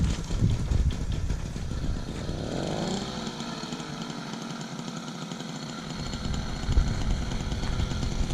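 A small engine on a motorized bicycle runs steadily on a farm driveway, a loud continuous buzzing drone with a rising and falling pitch as it revs and passes, heard alone without talk.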